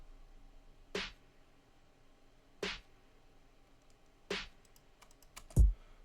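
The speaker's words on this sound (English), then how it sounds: "I stacked up two snares on top of each other." Four crisp snare hits spaced about a second and a half apart, each a sharp crack of two stacked snare samples with a quick decay over near silence.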